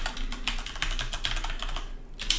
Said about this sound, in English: we could just type in the Swedish words for this